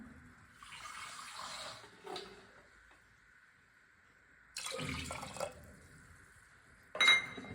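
Moong dal lentils being rinsed with water in a kitchen, with running tap water and sloshing in bursts separated by quiet gaps, clear and close with no talk.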